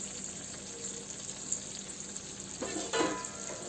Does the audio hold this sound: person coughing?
no